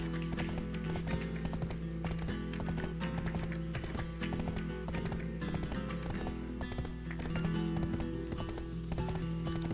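Horse hooves gallop in Black Desert Online, a steady rapid clip-clop of the in-game mount running continuously at moderate level over a low ambient game drone.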